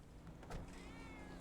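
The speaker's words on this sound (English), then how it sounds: "I heard kitty." A cat meows once inside the GTA V video game, a short, fairly quiet call over a steady game background hum with faint mechanical whirring, no talking.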